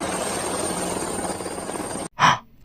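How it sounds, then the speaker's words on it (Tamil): A helicopter passes low over a rooftop, its loud, steady rotor and engine roar filling the air until it cuts off abruptly, followed by a brief breathy burst. "என்ன ஹெலிகாப்டர் சத்தம் கேக்குது?"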